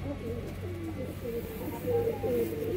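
Giribaz high-flying pigeons kept in a loft coo softly and steadily nearby, with low murmuring calls that overlap into a gentle, continuous sound.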